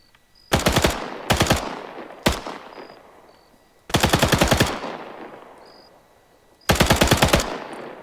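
Automatic gunfire in the video game ArmA 3 comes as several loud, close bursts of rapid shots, each trailing off into an echoing decay, with quiet gaps and a single shot between them.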